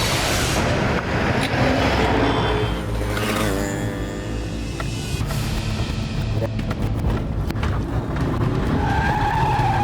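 A car speeds and skids through a crime-drama chase, with a loud screeching tire squeal and roaring engine under dense, continuous action noise that fades slightly toward the end.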